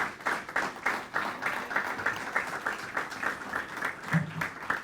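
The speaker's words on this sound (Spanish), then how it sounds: "Dele esa ofrenda de palmas al Rey si así lo desea." A church congregation at a Spanish-language service claps in applause, a dense, steady wash of hands with a slightly rhythmic pulse, moderately loud and continuing throughout.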